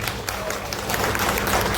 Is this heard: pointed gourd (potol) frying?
no